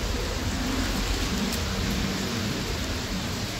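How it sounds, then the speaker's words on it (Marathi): Light rain still falling steadily outdoors by a highway in the evening, a soft continuous hiss with no other sounds standing out. "पाऊस आता कमी झालेला आहे, थोडा चालूच आहे."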